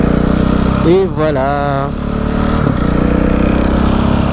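A KTM 690 SMCR single-cylinder motorcycle idles loudly up close, then blips through a quick rising and falling rev before settling back to a throbbing idle. Someone speaks briefly over it.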